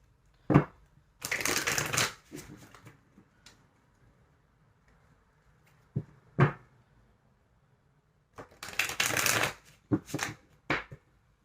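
Tarot card deck being shuffled in several quick riffling bursts, with soft taps and shuffles between them, close and fairly quiet.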